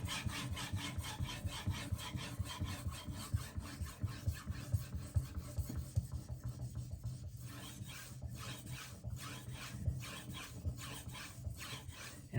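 A Karaku AS 210mm gyuto is drawn across a 5000-grit whetstone in steady, rhythmic rasping strokes: close, gritty scraping that rises and falls with each pass, with no voices.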